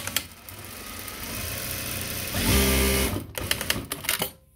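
A Juki DDL-8700-7 industrial sewing machine runs in bursts, sewing forward and back-tacking, with a steady motor whir that swells louder mid-run, then sharp clicks as it stops and restarts.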